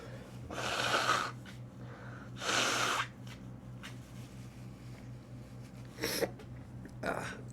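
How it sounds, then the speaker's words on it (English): Several loud, breathy nose-blowing bursts, spaced a second or more apart, with quieter snuffling between them and a steady low hum underneath. "I'm going to blow my nose real quick for you guys"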